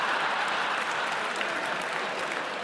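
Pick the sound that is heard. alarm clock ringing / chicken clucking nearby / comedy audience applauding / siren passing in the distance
comedy audience applauding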